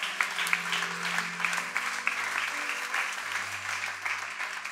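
Applause from a church congregation at a seminar service, a steady wash of many hands clapping at moderate distance, with faint sustained tones underneath and no talk over it.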